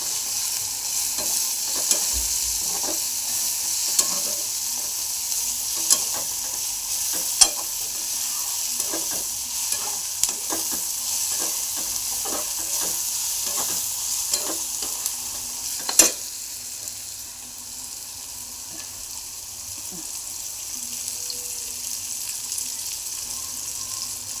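Beaten eggs fry in a wok for egg bhurji while being stirred, making a loud, continuous hiss and sizzle close up, with regular taps and scrapes of a spatula against the metal throughout and no voices.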